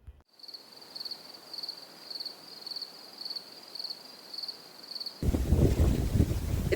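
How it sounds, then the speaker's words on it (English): Wind gusting across an outdoor allotment garden in Warsaw, a steady hiss under a repeating high electronic chirp, then a sudden loud buffeting roar of wind against the microphone near the end. "It's so windy today!"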